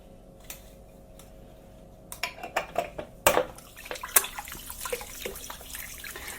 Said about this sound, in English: Again, I'm going to rinse my hands.